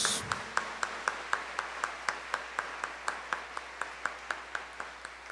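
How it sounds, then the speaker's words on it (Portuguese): A congregation at Mass clapping in unison, a slow steady beat of about three claps a second, evenly spaced, moderately close, with little else heard. "Aplaudamos a palavra de Deus"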